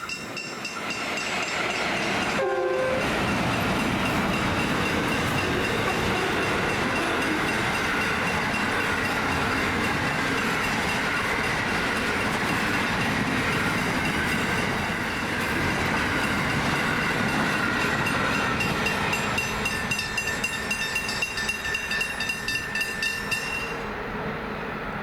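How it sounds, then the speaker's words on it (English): A train rolls steadily past close by, a continuous loud rumble with rattling wheels and a brief metallic squeal near the start, fading slightly at the end. "Aha, the first train's finally come."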